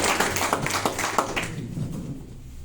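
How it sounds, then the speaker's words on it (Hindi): Hearty applause at a business team meeting for the leaders, a burst of close clapping that fades away after about a second and a half. "हमारे गुरुदेव मनीष सर के लिए और विलास सर के लिए जोरदार तालियां"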